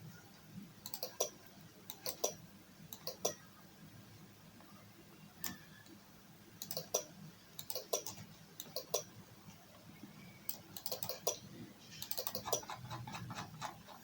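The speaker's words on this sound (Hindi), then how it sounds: "सो हम लेट्स सपोज ये टाइप कर देते हैं" Someone types on a computer keyboard while entering text in Adobe Photoshop, producing quiet, crisp key clicks in scattered quick clusters separated by short pauses, close and alone over faint room noise.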